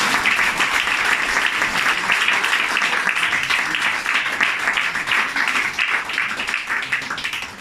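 Church congregation applauding and cheering, a dense, loud, continuous wash of clapping that holds steady for several seconds with voices mixed in.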